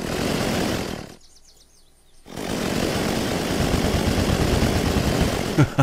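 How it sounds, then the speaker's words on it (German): A chainsaw runs in the video game Unturned, a loud, steady rasping engine drone that cuts out briefly for about a second and then resumes at full strength. "Wir haben eine Kettensäge."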